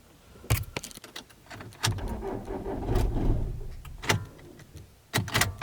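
A car starts up with clicks, clunks and a door or key handling first, then the engine turns over and runs for a few seconds before more sharp clicks, close by with no speech.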